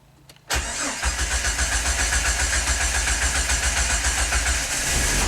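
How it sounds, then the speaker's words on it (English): A Jeep Wrangler engine cranks briefly, then catches and settles into a steady, loud idle that runs close by to the end, with no talking. "And I don't like the long crank time."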